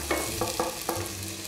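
Vegetables for a ratatouille sizzle in hot oil with garlic in a pan, a steady soft frying hiss broken by several scraping strokes of a spoon stirring them, close and alone.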